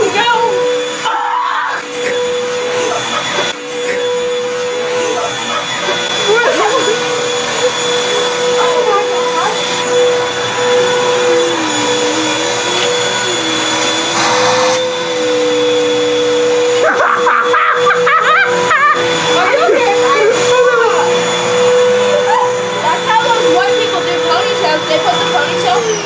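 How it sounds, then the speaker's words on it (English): A household vacuum cleaner runs loud and steady at close range, its motor drone holding a constant whine with pitch wavering as it works, while people talk over it. "What's wrong with your vacuum? What is wrong with that vacuum?"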